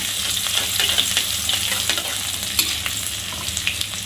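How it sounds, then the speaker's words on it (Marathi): Finely chopped ginger and green chilies sizzle continuously in hot oil for a samosa filling, stirred in a pan with light scraping ticks over the steady frying hiss. "त्यानंतर आपण बारीक कापून घेतलेले आलं आणि मिरची टाकूया। आणि चांगलं तेलामध्ये परतून घेऊया"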